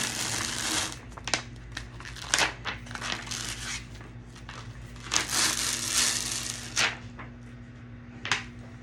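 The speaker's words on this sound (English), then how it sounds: "just peeling this away from the clear top, the clear vinyl" A clear top sheet is peeled away from glitter vinyl in a series of crinkly, crackling tearing strokes, some louder bursts separated by quieter rustling, close up.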